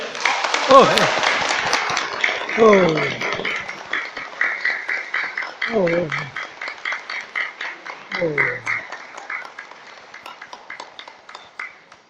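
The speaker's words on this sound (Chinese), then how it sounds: "咱最后最热烈的掌声" An audience at a Buddhist hall in Xiaying, Tainan applauds with dense, sustained clapping that fades slightly toward the end, while a voice speaks over it.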